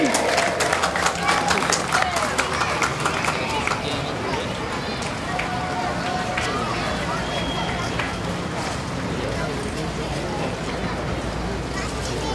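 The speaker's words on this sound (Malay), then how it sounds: "Tepuk tangan anggota rela" Sustained applause from a large crowd of RELA volunteer corps members at an appointment card and rank ceremony, loud and steady throughout with a babble of voices mixed in, the clapping densest at the start.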